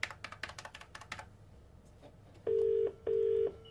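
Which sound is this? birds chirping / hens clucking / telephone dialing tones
telephone dialing tones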